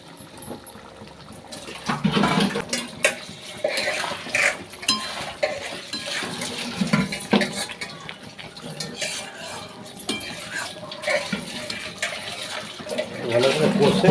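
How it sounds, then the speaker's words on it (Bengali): Boiled eggs and potatoes being stirred and sautéed in spice masala in a pan for Bengali egg curry, with repeated spatula scrapes and metallic clinks over a soft continuous background. "এবার আমি ডিম আলুটা দিয়ে একটু ভালো করে কষে নেব।"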